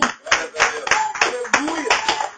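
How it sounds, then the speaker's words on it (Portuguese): Church congregation clapping together for Jesus during a Portuguese-language worship service, a loud rhythmic run of repeated claps, several per second, with voices and singing mixed in underneath. "A igreja senta batendo palmas para o Senhor Jesus."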